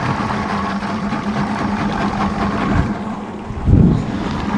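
An outboard motor on a small boat runs steadily in a low, continuous drone with wind noise over it, and its note swells briefly near the end.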